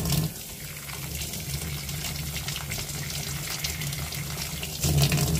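Water runs steadily from a tap while a syringe is filled for flushing an Epson WF-2850 printhead, a constant hiss near the mic with a slight surge at the end, no talking.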